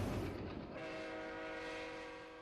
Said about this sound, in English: A 38 class steam locomotive with a local passenger train passes us on our approach to